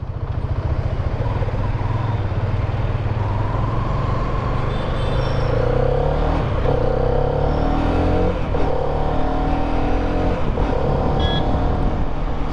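A Hero Karizma XMR 210 motorcycle on a test ride, its engine droning steadily and loud throughout with wind rush, rising and falling in pitch as the rider shifts and accelerates.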